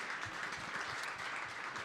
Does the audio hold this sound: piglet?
no